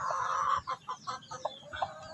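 A 7-month-old gamecock rooster calling hens gives a series of short, repeated clucking calls with brief pauses between them, close by, with no talking.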